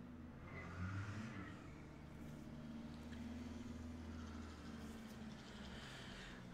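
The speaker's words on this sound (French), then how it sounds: "désolé si vous entendez les voitures, mais malheureusement, ce soir, ça bouge" Steady low traffic rumble on an evening street, cars passing continuously at moderate distance with a faint swell around the first second; no one speaks.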